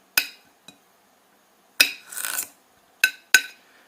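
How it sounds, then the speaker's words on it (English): A knife scrapes along the edge of a fresh aloe leaf, trimming off the thorns in a few short, crisp rasps separated by pauses, with one longer rubbing stroke in the middle; close and fairly quiet. "You just cut the thorns off the edge."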